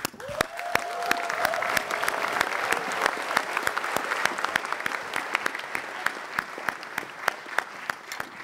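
A studio audience breaks into sustained, lively applause to welcome Muhammad Fadli, a dense wash of clapping that carries on steadily from start to finish.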